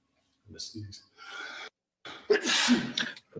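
A short sneeze followed by breathy vocal sounds and brief bursts of noise, close and fairly loud, with gaps of silence between.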